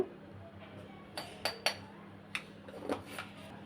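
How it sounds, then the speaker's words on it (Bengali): Spoon clinking against a bowl while gram flour, rice flour, salt, turmeric, cumin and chili powder are mixed for beetroot chops; a few scattered light metallic taps over a low steady hum, no voices. "শুকনো উপকরণগুলো আমি ভালো করে এভাবে মিশিয়ে নিচ্ছি"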